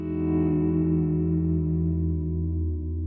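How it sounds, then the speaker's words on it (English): An electric guitar note held with the whammy bar gently pushed down and let back up to pitch, giving a slight downward wobble. The tone is effects-laden with distortion and echo, and it rings steadily and loudly for about three seconds with no talking. "lightly push on it and let it come back up to tune"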